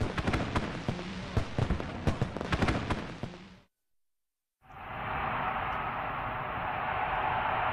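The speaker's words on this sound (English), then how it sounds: "Three, two, ready, one. Fireworks." Rapid crackling bursts of firework shells pop and bang in dense succession, then a brief silence, followed by a steady roaring hiss.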